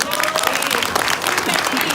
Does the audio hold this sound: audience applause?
yes